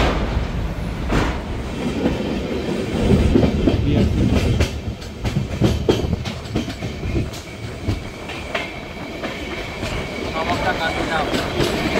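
The Capital Express train rolls along the rails near Kamakhya station with a loud, continuous rumble and rhythmic clatter of wheels, heard close from on board.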